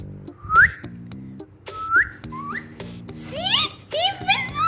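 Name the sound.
parrot whistling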